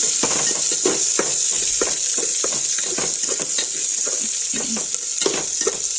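Dried red chillies and onions frying in oil for rasam, a bright constant sizzle broken by rhythmic scraping strokes of a spatula, close and alone without any talk.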